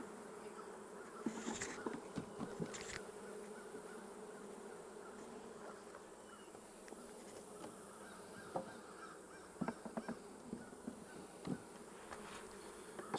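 Honeybees buzz around an open hive during a late-season colony check, a continuous droning hum with individual bees passing close now and then, alongside a few faint knocks and clicks.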